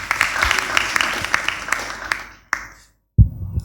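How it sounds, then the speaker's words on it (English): Audience applause at a talk on listening to God and virtues like hospitality and respect, a dense clapping wash that fades out, a short gap, then a renewed burst. "Give him a round of applause."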